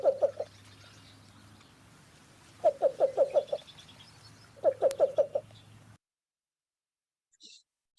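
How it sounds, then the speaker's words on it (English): A marsh bird's recorded cooing call, a short cuckoo-like series of soft, rapid hoots, repeats in three quick bursts over a faint low hum, then cuts to near silence. "making that little like cuckoo cooing call that they do"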